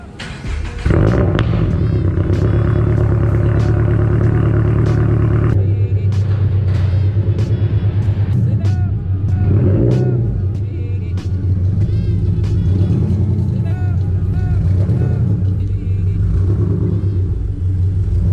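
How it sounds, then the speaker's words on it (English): A car being driven back into a garage after a spray-on detailing treatment, its engine rumbling loud and close throughout with a steady idle and slight shifts in pitch as it moves. "I'm gonna go ahead and pull the car back into the garage because this stuff dries pretty quickly."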